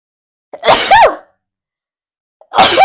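Two loud, sharp sneezes close to the mic, separated by a short silence, the second cut off at the end.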